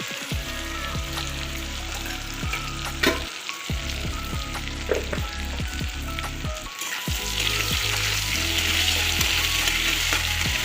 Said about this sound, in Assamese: এতিয়া 2 মিনিটমান আলুখিনি ফ্ৰাই কৰি ল'ম